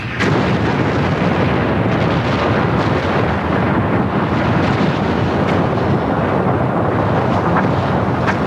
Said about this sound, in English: a huge explosion bursts out from the north face of Mount St. Helens